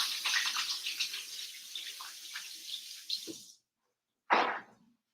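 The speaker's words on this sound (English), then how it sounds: "I'm going to wash my hands real quick." Hands washed under a running kitchen tap, a steady broadband rush of water for about three and a half seconds, then a pause and a short final splash, fairly close and moderately loud.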